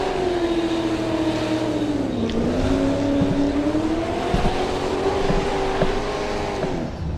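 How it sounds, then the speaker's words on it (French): A drift car screams at high revs close by, its engine note wavering steadily while the tires burn and hiss beneath, continuous for several seconds. "Ça brûle du pneu."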